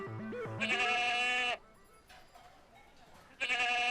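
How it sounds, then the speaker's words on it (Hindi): A goat bleats loudly twice, long wavering cries separated by a short quiet pause, close and clear. "किसकी बकरी? किसकी बकरी है?"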